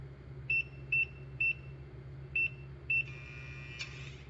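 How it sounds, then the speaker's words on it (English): Electronic beeps from a safe keypad in a voice-driven escape game: five short, clean tones at a steady pace, then a longer tone ending in a faint click, all over a low background hum. "The safe emits a low-pitched beep, and you hear a soft clank within the door."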